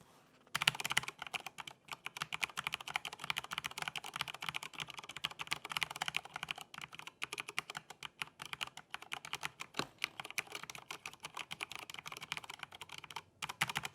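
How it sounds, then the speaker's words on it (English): Steady, rapid typing on a Corsair K95 Platinum XT keyboard with Cherry MX Silver switches, a dense patter of close keystrokes at moderate level throughout, with no talking. "So this has the MX Silver. So let's do a sound test and see what they sound like"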